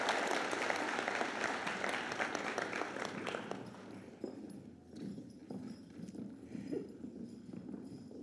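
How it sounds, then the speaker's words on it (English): Audience applause at an 8th grade bridging-over ceremony, a dense burst of clapping that thins out and fades after a few seconds, leaving scattered claps and room noise. "Huge round of applause, everyone."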